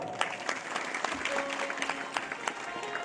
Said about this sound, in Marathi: पुन्हा एकदा या गावासाठी गावातलीच मंडळींनी एकदा टाळ्या वाजवाव्या